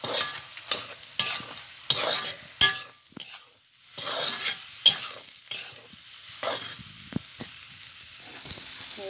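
Chili powder sizzles in hot oil in a pan of taro flower curry while a utensil stirs and scrapes it in uneven strokes, with occasional light clinks. No one speaks.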